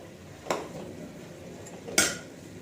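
Two sharp spatula knocks against a pan as jackfruit is stirred and fried, separated by a low background hiss, close and clear.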